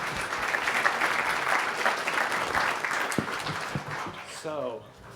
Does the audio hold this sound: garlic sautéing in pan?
no